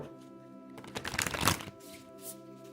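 A deck of shamanic medicine cards is shuffled close by in one brisk, riffling burst that lasts about a second, with quiet handling before and after.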